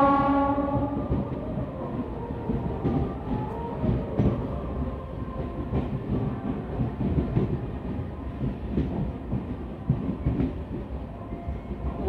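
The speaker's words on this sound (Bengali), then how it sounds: "ট্রেন আমাদের প্রবেশ করেছে পাঁশকুড়া জাংশনে" A MEMU passenger train on the Santragachi–Jhargram line enters Panskura Junction, opening with a fading horn-like tone and then a steady, loud rumble and rhythmic wheel clatter with no talking.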